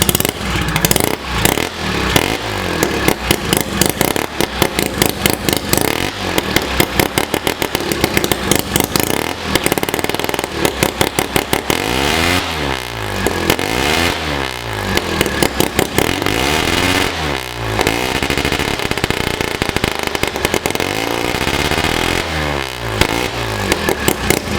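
A homemade ATV powered by a rotary engine is test driven, its loud buzzing engine revving up and down in repeated surges with clattering and scraping throughout, close and continuous for the whole stretch.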